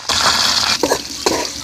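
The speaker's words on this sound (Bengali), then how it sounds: "মুরগিটা ভাজিয়ে লাইছি, কিন্তু বেশি বাজানো যাইবে না। এই যে ভাজিয়ে লাইছি।" A whole chicken fries in a pan with salt, giving a loud, steady sizzle broken by two scraping stirs near the end, with no voices.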